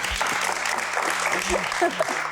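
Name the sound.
audience applause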